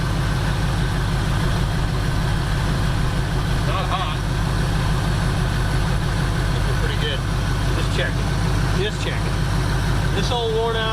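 A worn-out, previously seized engine in a 1976 Chevrolet C10 truck idles steadily with a low, continuous rumble throughout, while a voice talks intermittently over it.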